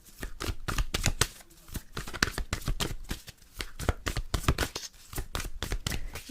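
Tarot cards being shuffled by hand for a reading, a rapid series of crisp riffling flutters and soft slaps repeating in bursts, close and clear with no talking.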